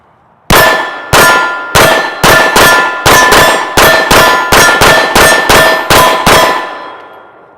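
Rounds from a Glock 19 strike a steel target in a quick string of about fifteen ringing clangs, each hit leaving a bright metallic ring that overlaps the next, loud and alone.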